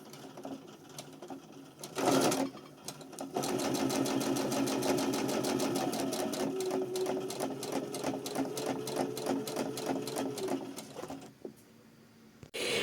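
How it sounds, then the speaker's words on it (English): A sewing machine stitches around a placket outline for a new clothing collection, a steady close rapid whirr running for about eight seconds after a brief burst, then stopping. "Let's get sewing."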